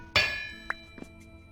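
A hammer strikes metal on an anvil in the video game Vintage Story: one sharp ringing clang followed by two lighter taps, close and clear, with no talk.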